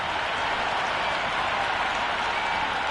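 Stadium crowd in the Cricket 26 video game before an India versus Namibia T20 World Cup match, a dense continuous roar of cheering and applause, loud and unbroken with no voices standing out.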